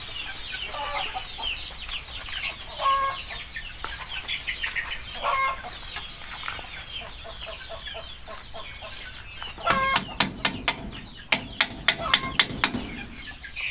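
Chickens cluck repeatedly inside a budget-built backyard coop, the calls close and irregular, with a burst of clattering and wing-flapping near the end.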